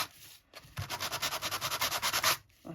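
Rapid back-and-forth sanding strokes on a journal cover made of teabags, about a dozen in quick rhythm, close and gritty, with no speech.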